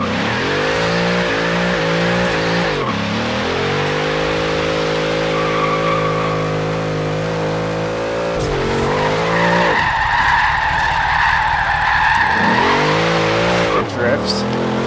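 A rear-wheel-drive Ford Crown Vic drifts, its V8 revving in rising and falling sweeps while the tires skid and squeal in a loud broadband hiss, all close and continuous.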